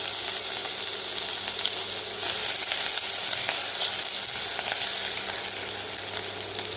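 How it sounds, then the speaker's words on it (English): Garlic and ginger frying in a pan for a pomfret fish stew with foxtail millet, a loud, dense, continuous sizzle and crackle, close up and steady, with no talking. "So the garlic has begun to caramelize already."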